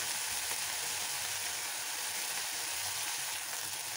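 Turmeric and chili powder fry in a pan of oil for a fish curry, giving a steady, close, continuous sizzle that holds at an even loudness throughout, with no voices.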